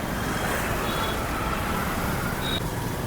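A busy city road produces a dense, continuous roar of traffic with cars and heavier vehicles passing steadily. Faint horn-like tones cut through now and then. Nobody speaks.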